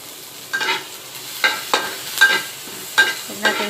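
Onion and garlic sautéing in a hot pan, with a low steady sizzle broken by several short scraping stirs at irregular intervals, close and moderately loud, with no talking.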